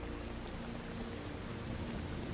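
Steady rainfall hisses evenly as a dense wash of drops, continuous and soft, with no voices over it.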